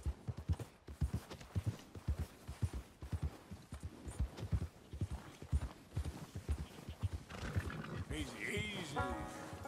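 Horse hooves clip-clopping in Red Dead Redemption 2, a steady rhythmic beat of moderate loudness running through the whole stretch, joined near the end by a horse's neigh and other game sounds.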